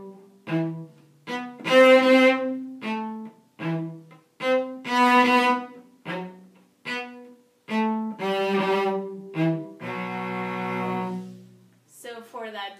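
A cello plays a slow bowed Sevcik exercise, separate sustained notes with short gaps between them, some notes held longer, close and clear.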